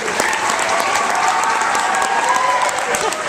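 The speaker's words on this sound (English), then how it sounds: "let's give him one more big round of applause" A crowd applauds authors at a reading event, loud, dense clapping that stays steady throughout, with faint cheering mixed in.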